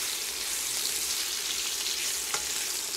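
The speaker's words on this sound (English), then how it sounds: "the oil's heated up, so I need to add the sausage first" Sausages fry in hot oil in a pan for spicy sausage pasta, a loud, continuous close sizzle with a faint scrape or two, no voices.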